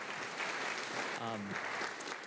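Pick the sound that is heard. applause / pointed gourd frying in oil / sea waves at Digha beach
applause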